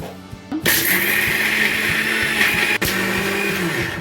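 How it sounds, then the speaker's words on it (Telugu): A mixer grinder starts abruptly and whirs loud and continuous close by as it grinds a chilli and tomato chutney, with a brief dip near the end before it keeps running. "ఇవన్నీ మిక్సీ పట్టుకుందాము."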